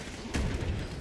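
Grenade blast in Fallout 76: one deep, booming explosion hits sharply and rumbles briefly, loud against the game's steady background noise.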